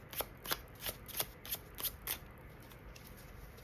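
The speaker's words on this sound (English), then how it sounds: "we'll just shuffle these" A deck of oracle cards, one printed with little ducks, shuffled in quick riffling bursts: about eight crisp, papery flutters in an even rhythm, close and fairly quiet, with no talking.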